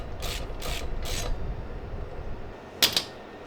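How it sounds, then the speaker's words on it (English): A ratchet cranks in three quick bursts as bolts are tightened in a star pattern on a Harley being built into a bobber, followed by two sharp metallic clicks near the end. "Always go on that nice star pattern when you're tightening these down."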